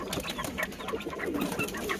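Pigeons coo continuously in a backyard kobutor loft, a dense overlapping chorus of soft, throaty coos from many birds close by, with no talking.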